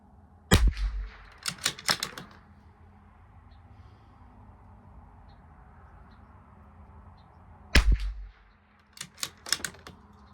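Bergara B14R rifle firing during an ammunition test outdoors: two sharp, loud shots several seconds apart, each followed by a short cluster of clicking bolt or action noises, with quiet background between.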